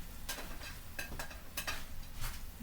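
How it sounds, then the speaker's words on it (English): Onions and peppers go into a pan for shrimp lo mein, giving a soft sizzle with a few scraping stirs and light clinks of utensil against the pan, close and without talk. "we're going to add our onions and our peppers in here"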